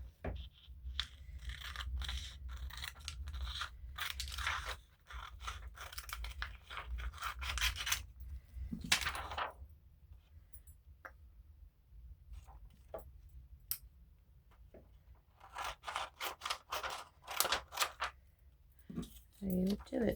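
Scissors snipping through plastic while making a junk journal, a run of quiet, quick crisp cuts and rubbing rustles with pauses between bursts, close up and fairly soft.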